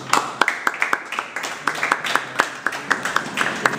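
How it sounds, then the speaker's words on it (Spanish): Students in a general chemistry university classroom applauding together, a brief burst of uneven hand claps at close range with a few louder claps standing out, no talking over it. "un aplauso para ustedes"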